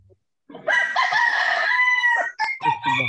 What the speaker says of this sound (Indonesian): Ayam siapa, Wan?